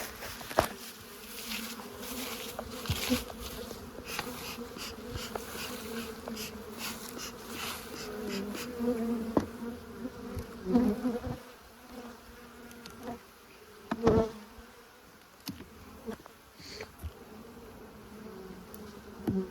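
Many bees drone steadily around a hive, a dense buzzing swarm with individual insects flying close past in louder passes.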